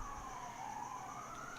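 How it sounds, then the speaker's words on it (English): Emergency sirens wailing outdoors, a steady, moderately faint tone sliding slowly in pitch over continuous low traffic rumble, heard at a distance with no voices. "while the sirens blaze outside"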